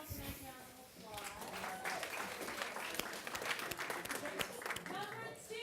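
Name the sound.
audience applause at end of workshop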